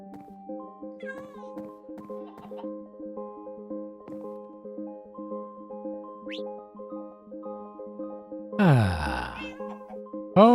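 The Minecraft music disc plays in a jukebox, a light, bouncy melody of steady, plucky repeating notes, briefly interrupted near the end by a loud sweeping game sound effect.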